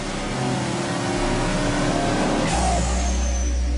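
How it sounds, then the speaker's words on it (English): A 2011 Ford F-150 EcoBoost V6 engine roars steadily at full throttle on a dynamometer, loud and sustained, with a brief shift in pitch partway through. "The engine fatigue test runs the engine for over an hour at full throttle."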